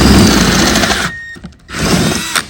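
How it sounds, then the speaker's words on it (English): A power drill bores with a letter-size drill bit while a custom vintage-style neon gas station sign is being built, whirring loudly and steadily, cutting out briefly mid-clip before resuming close up. "So I got a drill bit."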